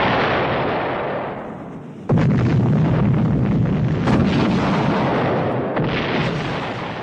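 China's first atomic bomb test detonates as a deep, roaring blast that swells abruptly after a brief lull and rumbles on continuously, loud and broadband, with no voices over it.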